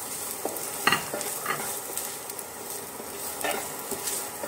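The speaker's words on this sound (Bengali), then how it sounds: "প্রথমে পেঁয়াজটা একটু ভেজে নিই।" Onion frying in white oil in a pan, a steady close sizzle with a few sharp stirring scrapes and utensil knocks against the metal, with no voices.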